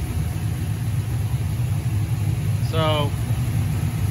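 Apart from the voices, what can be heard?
car engine idling, LS swap Camaro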